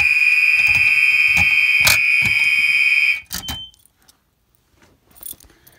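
A fire alarm sounds loud and near after a pull station is pulled during a fire alarm system test, with a pulsing high tone for about three seconds before cutting off, followed by faint clicks and rustling.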